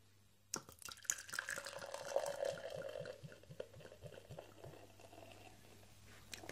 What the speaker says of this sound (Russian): Так, налью ваше пиво.